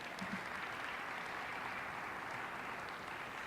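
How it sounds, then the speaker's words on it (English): Distant, steady applause from a large audience at the North American International Auto Show, a dense even wash of clapping with no talk over it. "So let's give them a great round of applause."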